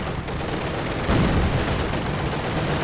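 Rapid gunfire and booming shots in a Company of Heroes 2 battle between Soviet and Wehrmacht forces, a dense, continuous volley of cracks and rumbles with a heavier burst midway, no talk.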